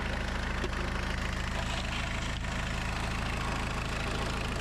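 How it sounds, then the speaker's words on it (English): Suzuki Samurai with a 1.6 turbo diesel engine idling roughly after a fuel tank and injection pump install, a steady low knocking rumble, close and continuous with no talk. "It's idling a little bit rough."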